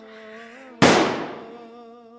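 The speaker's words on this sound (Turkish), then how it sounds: "bir el silah daha." A single loud gunshot cracks sharply over a steady low hum, its echo fading slowly over the next second.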